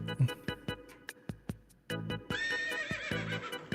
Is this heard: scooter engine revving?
no